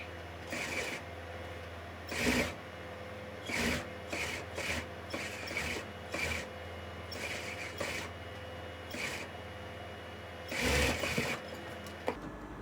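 A sewing machine stitches a sleeve onto a lined blouse in short whirring bursts, each run of rapid needle clatter separated by brief pauses, close and fairly quiet over a low steady hum.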